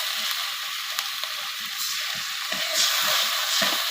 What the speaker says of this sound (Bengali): এখন আমি মশলাটা ভালো করে কষিয়ে